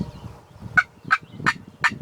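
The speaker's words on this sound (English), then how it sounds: "I hear another one gobbling in the trees there." A wild turkey gobbling in the trees, four short sharp calls in a steady rhythm about a third of a second apart, clear and fairly close over quiet ambience.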